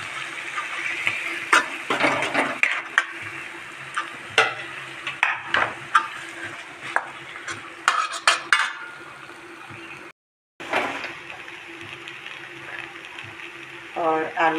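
Potatoes being stirred into a spice masala with curry leaves, a spoon clattering in uneven bursts against the pan over a low sizzle, with a short pause before the stirring resumes.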